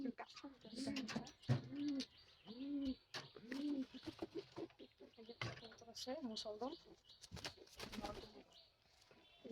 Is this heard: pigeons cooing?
yes